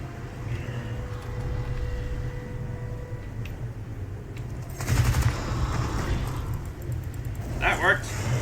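Gunfire from a weapon in the video game Crysis 2 Remastered cracks out in short, sharp bursts over a low, continuous rumble, with a second cluster of shots near the end.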